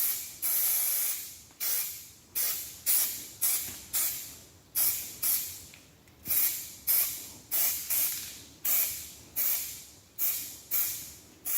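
Spray gun applying a faux marble finish to a countertop, heard as a steady run of loud hissing bursts, each about half a second to a second long, repeating rhythmically with short gaps between them, with no talking.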